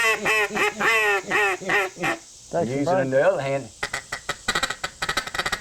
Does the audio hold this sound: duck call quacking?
yes